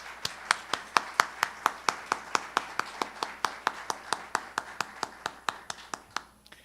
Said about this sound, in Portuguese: Simone von Rondon e Daniela Neves, a quem eu peço uma salva de palmas.